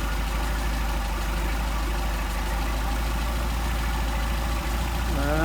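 A Mercedes 190SL engine fitted with Solex carburetors idles steadily and loudly up close, a constant low rumble that rises slightly in pitch right at the end as the revs come up.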